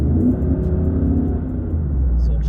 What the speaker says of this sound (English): The exhaust sounds terrible. It's nothing but drone.